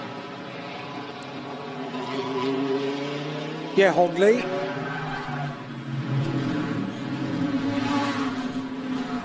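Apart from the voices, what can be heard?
GT race cars racing at the Macau GT Cup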